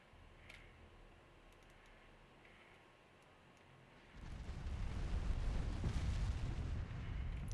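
Naval guns fire in Ultimate Admiral Dreadnoughts, where a quiet ticking background gives way to a deep, rumbling barrage that swells and stays loud, with low booms rolling on top of one another.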